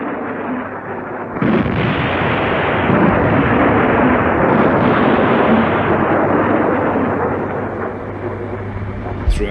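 Loud, sustained rumbling blast noise from German V1 flying bombs exploding over England during wartime, a dense continuous roar with a sharp onset and no clearly separated bangs.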